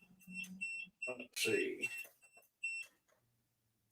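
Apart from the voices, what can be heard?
machine alarms sounding after power turned back on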